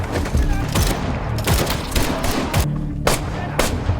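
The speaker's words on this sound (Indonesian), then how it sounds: "Baku tembak terjadi." Rapid gunfire in an action-film shootout, bursts of shots and thuds cracking out repeatedly over a dense, busy mix, with a voice briefly audible.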